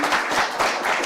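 Church congregation applauding during a Sunday sermon, a short steady patter of many hands clapping at moderate distance.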